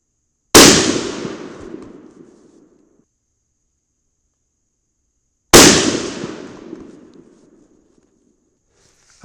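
Two loud .308 Winchester rifle shots firing 150gr Sierra Game King bullets, about five seconds apart, each a sharp crack followed by a long decaying echo, with silence between.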